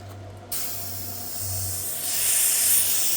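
Air from a Black&Decker 6-litre compressor hisses steadily through a regulator set to about two atmospheres, a broad continuous rush that starts abruptly and swells louder toward the end over a low motor hum.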